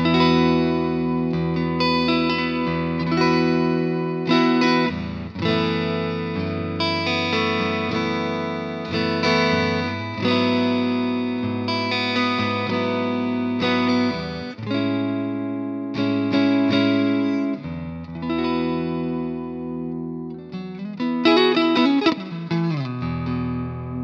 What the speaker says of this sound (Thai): ผมจะเล่นจากตัวเสียงคลีนก่อนนะครับแล้วก็ไล่ไปหาตัวเสียงแตกนะครับ